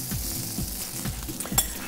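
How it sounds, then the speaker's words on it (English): French toast fries in a pan after being flipped, giving a soft steady sizzle with a few light scrapes and taps of a utensil. "Let's just take a look and see how our French toast is going. I'm just going to flip this over."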